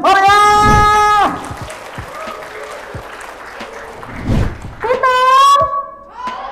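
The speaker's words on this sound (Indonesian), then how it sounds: "Kita beri tepuk tangan yang meriah" Applause welcomes a school student group at a project showcase on Jakarta's waste problem. Clapping comes between loud sung or chanted voices at the start and again near the end.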